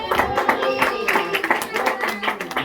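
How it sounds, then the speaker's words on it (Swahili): A church congregation claps their hands in a steady run of sharp claps, mixed with voices singing or calling out over the top. "Pigani kwa makofi."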